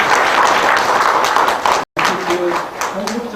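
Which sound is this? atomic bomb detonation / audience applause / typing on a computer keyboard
audience applause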